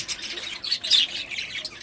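Budgerigar chicks and adults in a breeding box chirp and squawk continuously, a busy, high-pitched chatter of overlapping calls close by.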